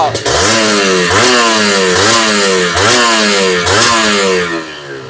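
A stock 1990s two-stroke motorcycle engine revs hard over and over, each rising blip falling back in a steady rhythm of about four bursts, loud and close with no talking.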